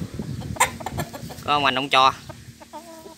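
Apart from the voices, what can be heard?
bantam rooster clucking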